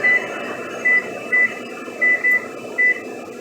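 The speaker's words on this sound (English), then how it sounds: "I'm going to do my timer for 2 minutes" A kitchen timer being set for two minutes while cooking steak on the stove: short, sharp electronic beeps sound six times at uneven intervals, clear over a soft background hum.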